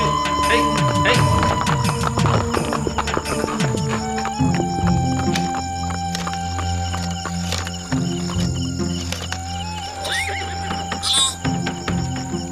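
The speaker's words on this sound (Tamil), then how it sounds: "நம்ம ஸ்டேஷன் முன்னாடி ஒரு குதிரை வந்து ஒரே அட்டகாசம் பண்ணிட்டு இருக்கு சார்" A horse neighs and whinnies loudly in front of a station, with shrill repeated calls up close amid busy background noise and scattered hoof-like knocks.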